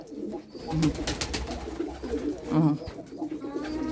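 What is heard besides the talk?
pigeons cooing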